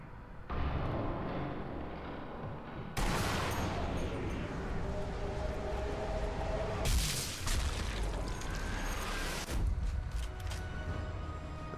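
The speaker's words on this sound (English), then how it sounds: "Looks like I'm still being shot at." Gunfire and heavy blasts from the Sniper Elite V2 video game on PS3, dense booming shots and explosions layered continuously with a sharp loud burst near the middle, no talk.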